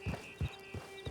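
Horse hooves clip-clopping at an easy walk in Red Dead Online, four soft, evenly spaced hoof falls over a faint steady background tone.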